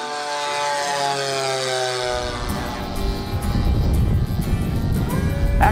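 Warbird propeller airplanes at an air show drone steadily with a sustained engine tone that grows louder and rougher as one passes closer, a continuous loud roar without talk.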